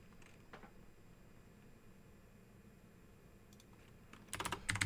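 Python code being typed on a computer keyboard: a few scattered keystrokes early, then a quick cluster of louder, close clicks near the end, with no talking.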